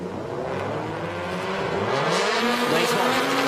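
Super Lights race cars at the ROC Nations Cup 2019 in Mexico rev hard and accelerate off the line, engine pitch climbing loudly and continuously, with faint commentary underneath.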